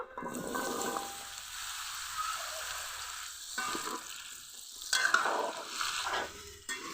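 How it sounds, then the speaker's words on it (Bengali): Pumpkin pieces sizzle in hot oil seasoned with bay leaf and panch phoron, with steady frying hiss and intermittent scraping stirs close by, growing busier toward the end. "কোনো মশলা দেওয়ার আগে এভাবে একটু ভেজে নিব"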